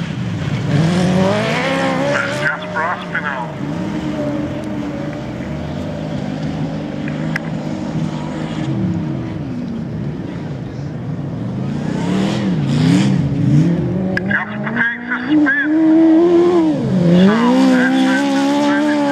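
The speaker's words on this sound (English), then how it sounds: "Burris, the class 10, looks like he's taking the lead" Class 10 race cars roar past in an auto race, engines revving and climbing in pitch with loud continuous drive-bys, rising and falling as the cars accelerate, with faint crowd ambience underneath.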